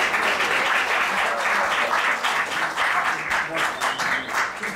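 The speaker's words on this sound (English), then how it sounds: "Let's give a warm round of applause for Hopewell Rogers" An audience at a New York high school poetry contest gives a warm, sustained round of dense applause, loud and close throughout.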